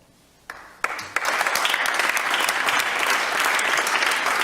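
Audience applause after a speech on a talk show, beginning with a few scattered claps and quickly swelling into steady, loud, sustained clapping from a crowd.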